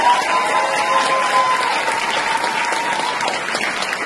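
Steady audience applause from a theater crowd at a prison drama troupe performance, dense clapping sustained throughout at an even, fairly loud level.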